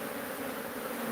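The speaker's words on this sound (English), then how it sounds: "there's a billion bees under there" A huge swarm of bees nesting underneath, droning in a dense, steady buzz that stays loud and close throughout, with no voices.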